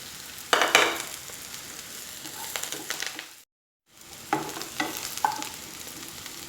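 Onions sauté in a pan for a mushroom gravy, a steady close sizzle with scraping stir strokes and a short silent break midway.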